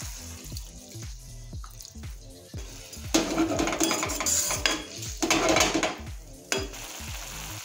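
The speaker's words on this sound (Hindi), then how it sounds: "थोड़ा पानी डाल देता हूँ।" Water is poured into a pan of chicken momo filling cooking over a medium flame in a home kitchen, setting off a loud sizzle and clatter of utensils that swells midway and carries on with stirring and scraping sounds.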